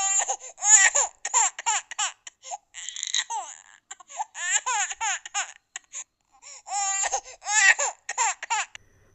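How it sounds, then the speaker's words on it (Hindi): A child cries and wails in repeated sobbing bursts with short gaps, close and clear against silence, as the sound effect in a Wendigo horror story. "एक बच्चे के रोने की आवाज़ आ रही थी।"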